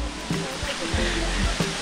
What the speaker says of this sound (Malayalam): അങ്ങനെ നമ്മൾ ആദ്യത്തെ വെള്ളച്ചാട്ടം എത്തി കേട്ടോ